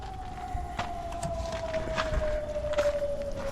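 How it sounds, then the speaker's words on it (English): An air raid alert siren wails in Kherson during drone attacks as one faint, distant, steady tone that slides slowly downward, with scattered background noises under it. "Air raid alert. Proceed to the nearest shelter."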